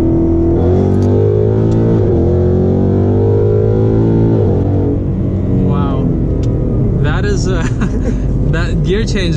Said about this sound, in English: I'm gonna do like a third gear pull